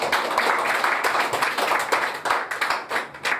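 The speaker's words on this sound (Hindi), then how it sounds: "चलो इसके लिए आपके लिए जोरदार तालियां हो जाए।" Loud audience applause for a motivational speaker, dense rapid clapping from many hands, close and sustained for a few seconds with no talk.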